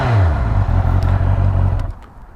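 A 2019 Honda CB650R motorcycle engine idles close by with a steady low rumble, its revs rising and falling briefly before dropping away quieter at the end.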